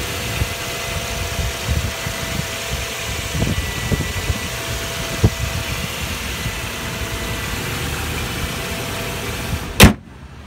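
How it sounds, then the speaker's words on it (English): A Toyota V8 engine idles steadily, a close, even rumble with light vibration, punctuated by a couple of faint knocks and one sharp click near the end. "this engine is huge because of the V8"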